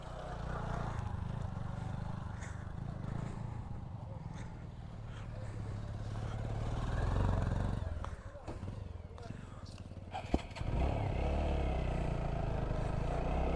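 A motorcycle engine drones steadily as it climbs a steep, rough hill road in Sukhiya Valley near Lama, with people talking over it and occasional clatter.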